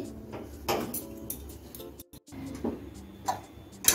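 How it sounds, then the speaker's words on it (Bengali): A lid is set onto a cooking pot of jorda semai after the gas is switched off, giving a few metallic clinks and clatters up close among quieter kitchen handling noises. "এখন আমি গ্যাসটা বন্ধ করে দিচ্ছি, দিয়ে ঢাকা দিয়ে 2 থেকে 3 মিনিট রেখে দিচ্ছি।"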